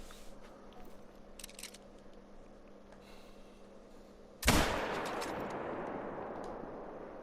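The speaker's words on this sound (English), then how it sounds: "Kind of rushed that shot. Definitely hit something solid though." A .270 rifle fires once at a fallow buck in a hunting video game: a loud, sharp blast breaks a quiet outdoor ambience and then trails off in a long rumbling echo.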